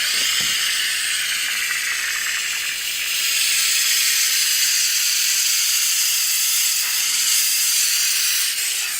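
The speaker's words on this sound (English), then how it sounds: "We can turn this on, and it's nice because we can kind of just steam it" A PurSteam professional steam mop steaming grout lines on a floor, giving a loud, continuous close hiss of steam that holds steady for the whole stretch.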